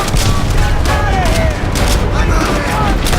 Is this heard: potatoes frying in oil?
no